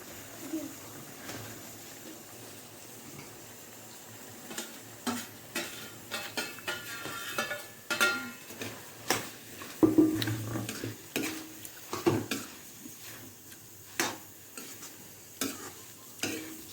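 Fish belly and rice pulao stirred in a pot with a spoon, a run of scraping, clinking strokes over a low sizzle, growing busier and louder midway, with no talk.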